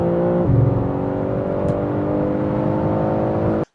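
BMW G80 M3 with a stage 1 tune accelerates hard from inside, a steady, loud engine drone with rising harmonic tone, a brief shift-like dip early on, and the sound cutting off abruptly at the end.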